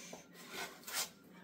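Drywall joint compound being sanded by hand during a wall repair, a dry abrasive rasping in a few slow, uneven strokes, close and fairly soft, with no talking.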